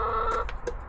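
Allotment chickens, including speckled hens, cluck close by in a brief burst of a few throaty notes with some outdoor rustle underneath.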